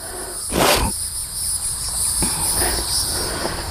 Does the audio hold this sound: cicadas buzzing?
yes